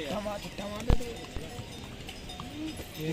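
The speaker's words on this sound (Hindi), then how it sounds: "ए यार घोड़े आ जाएंगे।" Horses on the Kedarnath trail clip-clop past on stone with a few uneven hoof strikes and sharp knocks, while people talk nearby over outdoor bustle.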